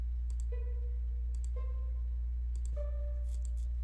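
Three short pizzicato string notes from Sibelius NotePerformer playback, each a soft plucked tone that decays quickly, spaced about a second apart over a steady low hum.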